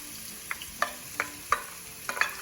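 Red onions going into hot oil for beef samosas, a quiet steady sizzle punctuated by about six sharp clicks of a utensil against the pan at irregular intervals, close by, with no talking.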